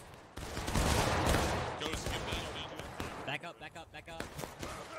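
Massed musket volley fire in the Civil War game War of Rights, a loud ragged burst of overlapping shots at the start, then scattered reloading clatter and further pops as voices talk over it.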